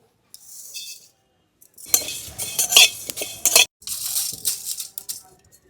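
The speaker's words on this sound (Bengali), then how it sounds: "এবার শুকনো কড়াইতে কয়েকটা মশলা ভেজে নেব" Dry cumin, dried chillies, fenugreek and fennel seeds rattle and scrape in a dry metal pan as a spoon stirs them, in quick bursts with brief pauses.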